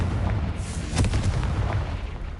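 Fiery blast from the Confringo spell in Hogwarts Legacy: a booming explosion bursts out around the middle and leaves a rumbling, crackling tail over constant low game ambience.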